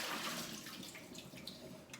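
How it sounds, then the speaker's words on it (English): Dirty water poured from a Pioneer Pet electric cat water bowl into a sink, a steady close splashing rush that tapers slightly over two seconds, with no talking. "dump it into the sink"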